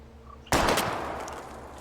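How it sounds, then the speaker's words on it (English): A single sharp gunshot fired at bottles in a video game, sudden and loud, close by, followed by a long fading echo tail over a low background hum. "We're gonna shoot all these bottles without wasting a single bullet"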